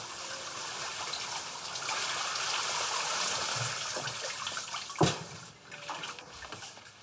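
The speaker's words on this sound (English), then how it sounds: "When he arrives, she is seen in the shower." Shower running in a film scene, a steady bright hiss of spraying water with trickles and splashes, close and fairly faint, ending with a sharp knock and uneven dripping.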